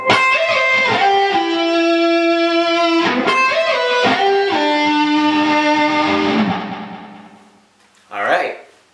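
Electric guitar plays both interlocking parts of a metal song together, sustained harmonized melodic lines ringing loud for about seven seconds before fading, followed by a brief noisy strum at the end.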